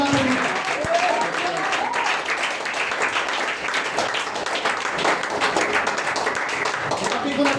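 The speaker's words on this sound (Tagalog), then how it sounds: "palakpak para sa Diyos" A church congregation gives dense, sustained applause that fills the room at a moderate level, with voices talking over the clapping.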